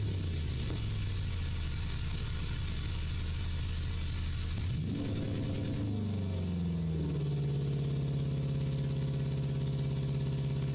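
Software-simulated car engine idling with a steady low hum, then revving up midway and settling into a higher, slightly breathy, roomy drone; no voices.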